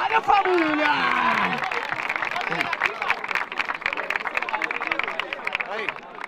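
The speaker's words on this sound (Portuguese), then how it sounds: "E as palmas pra essa batalha" A crowd at a rap battle bursts into applause, a bright uneven clatter of clapping with shouting and cheering voices on top, loudest at the start and staying busy throughout.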